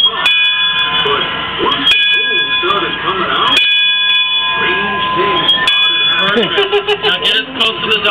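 The bell of the Mark Twain steamboat rings four distinct, evenly spaced strokes, each ringing on under steady machinery hum while people talk nearby.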